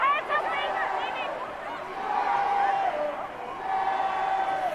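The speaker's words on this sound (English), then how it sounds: "Fans are getting into this one now, cheering the women in red on." Rugby fans cheer in the stadium at a Wales v Scotland Women's Six Nations match, a broad crowd roar swelling in waves under a commentator's voice.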